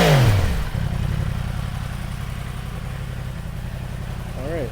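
A Yamaha R1 sport bike fitted with an SC Project CRT exhaust drops quickly from a high rev back to a steady, burbling idle that runs close and loud for the rest of the moment.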